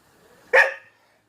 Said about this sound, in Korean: 저 아저씨 걔는 왜 짖는 거야?